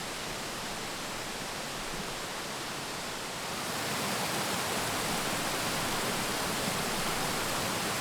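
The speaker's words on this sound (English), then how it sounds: "At the top is the Brasstown Cascades, a 50-foot drop over tiered rock ledges." Brasstown Falls cascades over tiered rock ledges in a 50-foot drop, a dense, steady roar of rushing water that swells a little louder midway and continues without pause.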